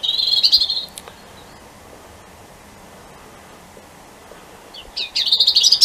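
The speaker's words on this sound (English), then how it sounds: "So it's beautiful to hear this, to hear the robins." Robins sing in the open on a December solstice day, with a bright warbling phrase at the start and another at the end, fairly close, separated by a quiet stretch of faint outdoor hiss.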